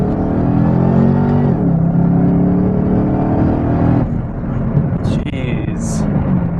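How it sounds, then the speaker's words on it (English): A 2013 Chevrolet Camaro ZL1 pulls hard in second gear from 40 mph, its loud engine note rising steadily inside the cabin, then easing off near the end with a brief high squeak. "Here's a second gear pull from 40 miles per hour."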